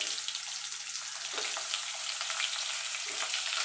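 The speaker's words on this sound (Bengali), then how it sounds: "আলুগুলো দিয়ে একটুখানি আমি ভাজা ভাজা করে নেব আলুগুলোকে।" Potatoes sizzle and fry in a pan of oil for a fish curry, a steady close crackle with a few soft stirring scrapes, no voices.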